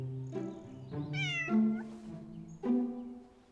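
A cat gives a few close, clear meows, one longer and rising, in a quiet indoor setting from a Chinese fantasy drama.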